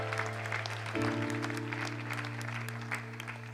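A church congregation claps and cheers in acclaim of the Lord, a dense wash of applause layered over steady sustained instrumental tones, with a faint voice now and then.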